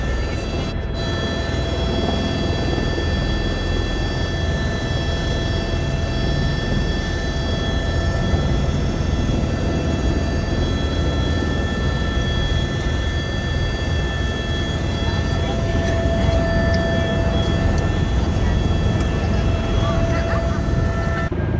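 A helicopter at Naini Saini helipad in Pithoragarh, a loud steady engine and rotor drone with a whining tone running continuously close by.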